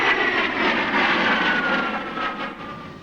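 A US Navy/USMC A-6E Intruder jet aircraft roars steadily nearby, a loud broadband engine whine with a high tonal component that holds level and fades slightly toward the end.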